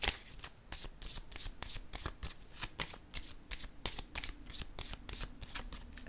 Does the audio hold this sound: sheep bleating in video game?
no